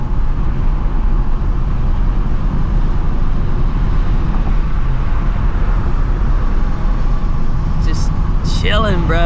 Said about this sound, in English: it's crazy the amount of wind noise though